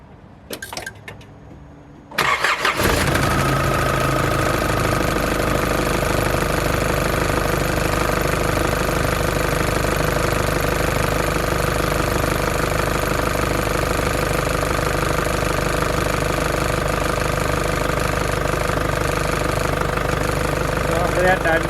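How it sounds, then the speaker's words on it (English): A Nissan Patrol Y61 with the ZD30 diesel engine cranks briefly after a quiet moment, then catches and settles into a loud, steady idle with a constant rumble and a faint knocking that runs to the end. "We're going to start the car."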